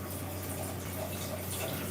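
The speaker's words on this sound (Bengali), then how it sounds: "সেটাতে জল দেবো।" Water pours steadily for about two seconds, a continuous close splashing rush with a low hum underneath and no voices.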